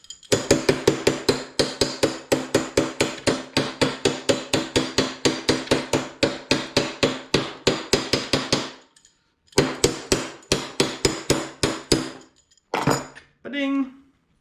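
A hammer taps steadily on a Goped Big Foot engine part, fast rhythmic metallic knocks for about nine seconds, then a short pause and more taps, ending with a few scattered hits and a brief sound at the end.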